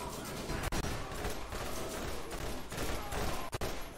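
Sustained rapid turret gunfire in a video game, loud and close, a dense continuous fusillade with a couple of brief breaks near the start and end.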